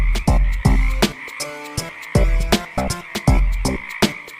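Frogs croak in loud, close, repeated calls, each a deep resonant burst with a buzzing harmonic ring, coming in an uneven rhythm roughly every half second.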